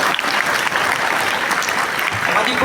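Audience applause at a school Pongal festival debate welcomes a speaker to the stage: dense, steady clapping from a large crowd that fills the whole stretch at an even level.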